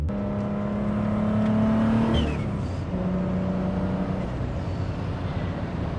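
A 700 hp BMW E39 heard from inside the car, its engine revving hard with a rising tone, a sharp shift and then a steady drone, loud and close, with no talk.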